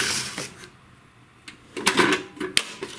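Plastic side cover clip on a Best Arc MIG 145 welder being unlatched, giving a few sharp clicks and snaps that stand out against near silence.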